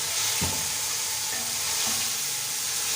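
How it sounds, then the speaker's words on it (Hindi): Chicken pieces frying with green chilies in hot oil for chicken pulao, a steady dense sizzle with a few stirring scrapes, close up and without talk. "सब्ज़ मिर्च डाल देंगे और चिकन जो है वो भी हम डाल के चिकन को फ्राई करने के लिए लगे।"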